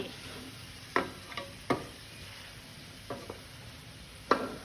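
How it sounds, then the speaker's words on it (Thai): Squid and broccoli being stirred in a frying pan, with a handful of sharp scraping clicks of the utensil against the pan spaced irregularly over a faint, steady sizzle; no one talks. "คนให้ทั่วกัน อ่าถ้าไม่งั้นเนี่ยนะคะปลาหมึกมันก็จะติดกระทะ"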